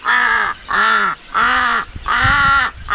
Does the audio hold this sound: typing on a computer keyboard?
no